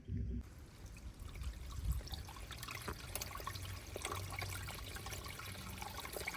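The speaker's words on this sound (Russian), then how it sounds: "И сейчас пойдет с умывальника уже через всю трубу." Water runs out through a washbasin drain pipe, a faint continuous trickling and splashing flow with a few sharper knocks, heard alone at a distance.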